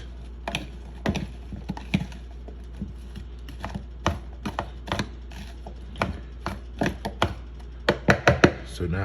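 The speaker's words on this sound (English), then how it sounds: "So now we're just going to mix it all together" Meat being mixed with tenderizer in a bowl, heard as a run of sharp clicking, tapping knocks of utensil against the container, close and fairly loud, with no talk over them.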